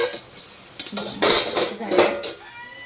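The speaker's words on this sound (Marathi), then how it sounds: "चला आता हे झाकण खोलूया आपण" Lid lifted off a cooking pot of village-style chicken curry: a couple of quick metallic clanks and a scraping clatter of steel, close and short, with a faint voice nearby.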